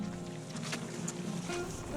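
A boat idles out on coastal Alaskan water, its low motor droning steadily under soft wind and water noise, fairly faint and without speech.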